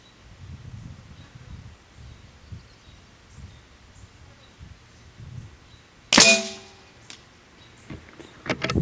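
A single sharp shot from a .22 caliber air rifle with a modified magazine cracks loudly after several seconds of quiet handling rustle, followed by faint clicks and shuffling.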